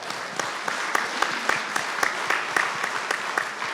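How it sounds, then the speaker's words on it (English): Audience at a chamber of commerce mayors forum clapping steadily, a dense, even applause that holds at moderate loudness for the whole stretch, with sharper individual claps popping out of the wash. "so give him a round of applause,"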